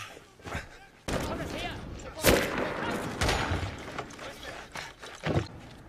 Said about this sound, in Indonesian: Kelompok tentara Rusia itu saling mengatur serangan dan mereka pun baku tembak.